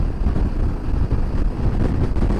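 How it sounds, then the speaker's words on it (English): Wind buffets a microphone on an exposed stretch of Scotland's north coast during a bike trip, a continuous low rumbling roar with uneven gusty surges and no voices. "It's windy."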